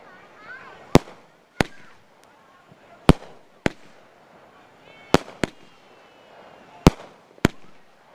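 A Fourth of July fireworks cake firing a 36-shot sequence, with sharp, loud individual bangs going off at irregular intervals, some in quick pairs, over faint crackle, hiss and background murmur.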